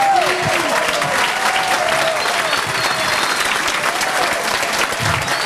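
A crowd at a rally for freedom of expression applauds Eduardo Guimarães with loud, sustained, dense clapping that holds steady throughout, with a few whistles and cheers near the start.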